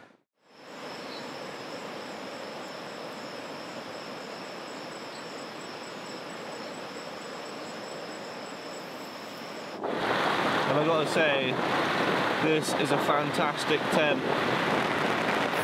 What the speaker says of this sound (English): It's torrential rain and wind.